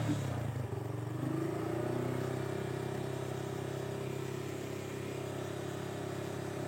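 A Suzuki Gixxer motorcycle with its original monotone exhaust runs in second gear, a steady close-up mid-pitched drone holding even after a brief rev near the start.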